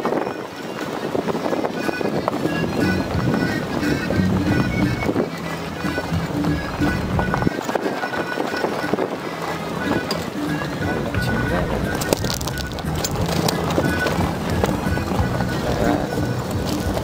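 Horses and a mule in a riding cavalcade heading to a river during a quinceañera celebration in Nuevo Progreso, Aldama, Tamaulipas: continuous hoof clip-clop mixed with crowd chatter and outdoor noise throughout.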